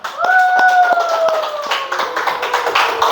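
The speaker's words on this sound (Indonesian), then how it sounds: "Ya, tepuk tangan untuk kelompok 1." A class applauds a student group, a brisk run of close handclaps over a few seconds with a sustained tonal sound running beneath the clapping.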